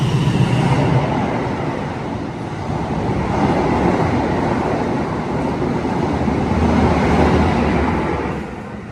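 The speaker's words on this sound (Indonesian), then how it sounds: "nah itu dia kereta api Argo Bromo Anggrek sudah melintas langsung di stasiun Pemalang ya" The Argo Bromo Anggrek express train roars through Pemalang station in Indonesia without stopping, a loud sustained rush with clattering wheels that swells and then begins to ease away.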